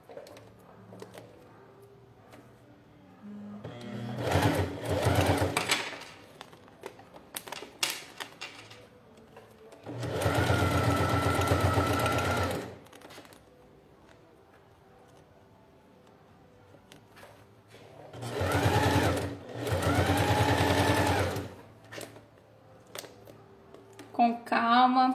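A sewing machine stitches bias binding onto a clear plastic pouch in four loud mechanical bursts. Each run lasts a couple of seconds, with quieter handling noises and a faint voice in the pauses between them.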